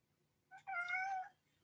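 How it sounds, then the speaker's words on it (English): A single cat meows once, clear and close, with a short lead-in chirp before the drawn-out cry in a quiet room. "that meow picked up plain as day"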